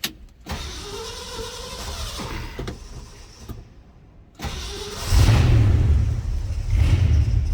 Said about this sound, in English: Go ahead and start it up so you can hear it run.